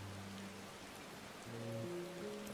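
Soft, steady rain patters in a Final Fantasy XIV cutscene, a faint even hiss beneath low sustained music tones, with no voices.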